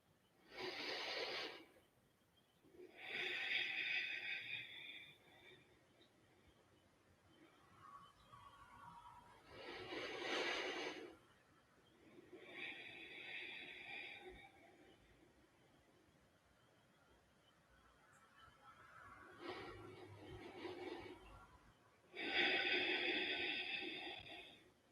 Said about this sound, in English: we're going to take 3 really big deep inhales and exhales here